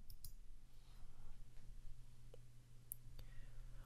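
A single computer mouse click during wireless network manager setup on a PC, a short sharp tick followed by another faint click, close and quiet over a low electrical hum.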